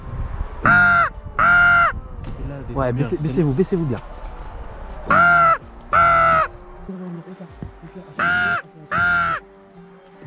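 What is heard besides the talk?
crow cawing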